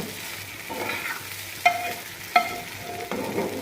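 Tripe tempered in hot oil with onion and garlic, a soft steady sizzle under stirring, with a couple of sharp metallic clinks from the utensil against the pan.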